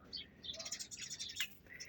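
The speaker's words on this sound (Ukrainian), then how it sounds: "Боже, горобці кричать." Sparrows chirp in a garden, a quick run of faint, high tweets repeating steadily at a distance, with no other sounds standing out.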